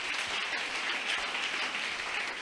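Steady, dense audience applause, many hands clapping in a continuous wash of sound with no break and no clear individual claps standing out.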